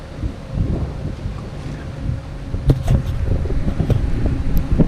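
Strong wind gusts across a lake during a bass fishing outing, a steady rumbling buffet on the microphone with a few knocks and thumps from the boat, and no talk.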